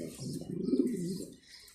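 Mundiyan pigeons coo on a farm in a low, soft, rolling call that rises and fades over under two seconds, close by and fairly clear, with faint rustling behind.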